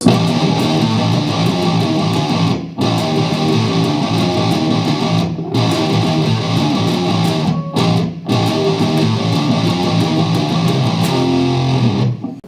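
Heavy distorted electric guitar pre-chorus riff, loud and chugging, broken by several brief stab-like stops of dead silence before the riff resumes.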